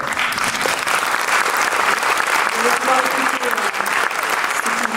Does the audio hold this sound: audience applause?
yes